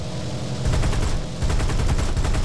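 Aircraft machine guns fire in War Thunder in two rapid, loud bursts, the second starting after a short pause, each a dense, close rattle of shots with a low rumble underneath and no talk.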